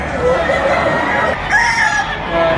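A bullstag rooster crows at a busy chicken market in Lipa, Batangas, two close, loud calls in quick succession over a background of crowd noise.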